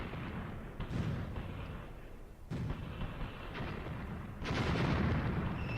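Artillery thunders across a Graviteam Tactics battlefield in several heavy, distant-sounding booms spaced a couple of seconds apart, over continuous low rumbling combat noise.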